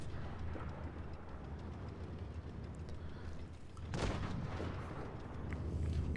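A tank cannon in World of Tanks Blitz fires a single heavy boom midway, set against a low engine rumble and battle noise, with a second swell of rumble toward the end.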